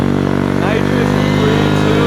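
A scooter engine fitted with nitrous injection, revving hard and loud up close with a buzzing, strained drone that wavers in pitch, a voice talking over it.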